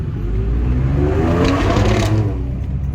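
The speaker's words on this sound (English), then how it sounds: "my exhaust be popping, bro. Like crazy." A Ford F-150 EcoBoost pickup truck engine revs loudly and close, a rising throaty roar with a brief rough crackle of exhaust popping midway, no voices.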